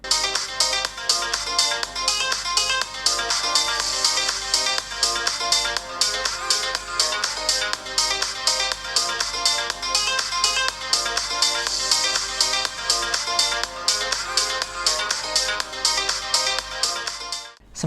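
A ringtone melody plays at maximum volume through the mono speaker of an Oppo A31 phone, bright and continuous, with bouncy repeating notes until it cuts off at the end.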